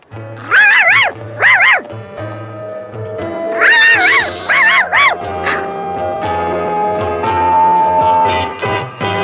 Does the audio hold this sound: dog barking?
yes